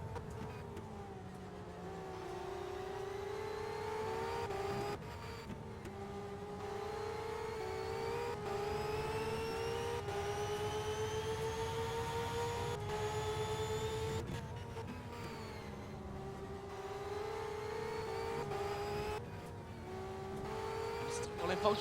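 Formula Renault single-seater race cars in a racing game, their high engines whining and climbing through the gears, with a shift cut every few seconds. The engine note stays steady and close, and a commentator talks over it throughout.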